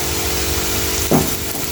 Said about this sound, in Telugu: ఇట్లా మంచిగా ఇట్లా ఫ్రై చేసుకోవాలి ఉల్లిపాయలు.